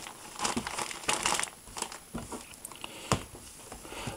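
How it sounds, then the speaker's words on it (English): A plastic packet of Panini Bin Weevils Good vs Weevil Edition trading cards is torn open and handled up close, with crinkling, rustling and sharp tearing bursts, no speech. "let's get this packet open, drop them out, all the stuff"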